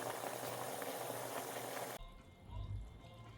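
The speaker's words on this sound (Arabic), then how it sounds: "هلا يغلي، بعدين بنهدي النار بنتركه لحتى يستوي" A pot of garlic in water with salt and soy sauce boils with a steady bubbling hiss, then changes to a lower, closer churning.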